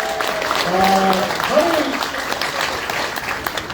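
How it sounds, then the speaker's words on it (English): Audience applause fills a Hawaii interview event honoring actor Yuji Okumoto, a steady broadband clatter of many hands that runs throughout, with a host's voice and other voices speaking over the start. "let's give another round of applause"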